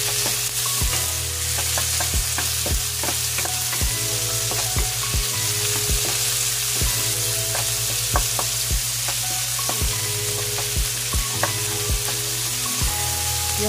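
Pork frying in a pan while ginisang munggo and sitaw are cooked, a steady close sizzle running throughout with repeated sharp clicks and taps of a utensil stirring against the pan.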